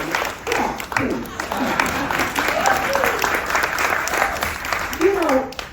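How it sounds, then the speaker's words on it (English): Audience applause at a talk on aging gracefully with plants: a steady, loud wash of many hands clapping fills the whole stretch, with a voice speaking over it at times. "Please give yourselves a round of applause."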